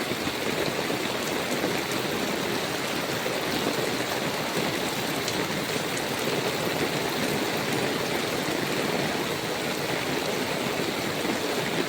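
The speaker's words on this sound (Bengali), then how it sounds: "আমি চলেছি এই বৃষ্টির মধ্যে" Steady, dense rain pours down in Dankuni, a loud continuous hiss of drops on surfaces with no talk.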